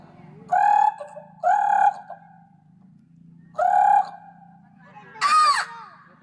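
A voice imitates a bird with four short, nasal calls spaced apart, the last one higher and shriller, against a quiet hum.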